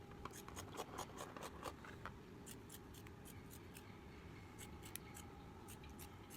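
Fabric scraps snipped with scissors, a series of crisp close snips and slicing strokes in irregular bursts over a low steady background hum.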